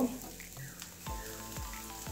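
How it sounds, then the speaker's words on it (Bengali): Tomato pieces sizzle and fry in a pan of oil with a soft, continuous crackle and a few faint stirring scrapes, heard quietly and up close. "ওই দিকটাও বেশ করে লাল লাল করে ভেজে নেব।"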